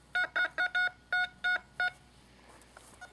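Metal detector tone from a likely zinc penny: seven short, sharp electronic beeps in quick succession, fairly loud and close, then quiet background.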